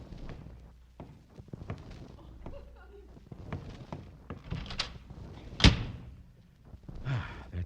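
A door shuts in a classic radio comedy about a school heating system, with a solid thunk near the middle amid footsteps and movement, surrounded by the actors' spoken dialogue.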